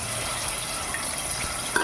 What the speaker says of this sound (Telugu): చూడండి, ఉల్లిపాయలు పచ్చిమిరపకాయలు బాగా వేగుతున్నాయి.